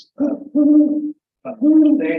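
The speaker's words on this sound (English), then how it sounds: "When they hoot, it is a message to other great horned owls in the area." A great horned owl gives two loud, close series of deep, resonant hoots, each a pair of phrases separated by a short pause.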